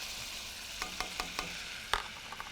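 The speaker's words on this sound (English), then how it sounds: "And we mix about a minute, cooking the raw flour taste out." Butter and flour roux sizzles gently in a pan while a utensil stirs it, giving a soft steady frying hiss broken by several light scraping taps close by.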